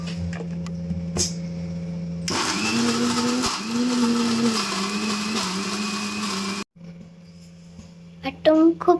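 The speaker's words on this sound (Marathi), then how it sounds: "खूप मोठं मिक्सरचं भांडं आहे. याच्यात किती पण वाटण्याची क्वांटिटी बसती." A mixer grinder with a very large jar grinds masala, a loud steady whir that starts abruptly, runs for several seconds with shifting motor pitch, then cuts off, followed by light kitchen clatter.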